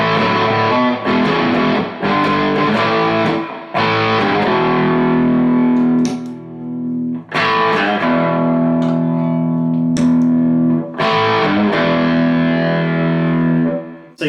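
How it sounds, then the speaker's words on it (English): Electric guitar on the bridge pickup through a Rangemaster-style treble booster into a crunchy Boss Katana amp, strummed in loud, distorted sustained chords that ring out, with brief gaps between strums. "through the Rangemaster straight into a crunchy amp"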